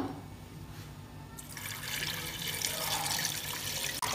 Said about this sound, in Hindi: इसके अंदर अब हम ऐड करेंगे पानी